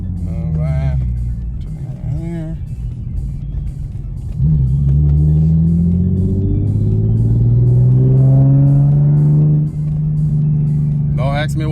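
An Infiniti G37 exhaust under hard acceleration pulls shifting at 5,000 RPM, loud close engine tones rising in pitch through each gear with a brief dip at a shift, the deep roar dominating, with speech heard at the edges.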